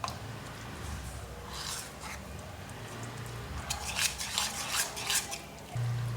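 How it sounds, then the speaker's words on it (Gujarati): A spoon stirs spinach and corn dhokla batter in a bowl, producing soft wet squelches and light scraping clicks in an uneven rhythm that grows busier toward the end. "ફરી એકવાર મિક્સ કરી લઈએ"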